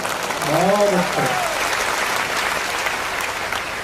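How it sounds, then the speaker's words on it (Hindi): An audience at a Hindi poetry recital of devotional Ram verses breaks into steady, dense applause that fills the hall, with a brief voice heard over the clapping near the start. "आगे से पीछे तक के लोग एक बार तालियां बजाकर बताएं"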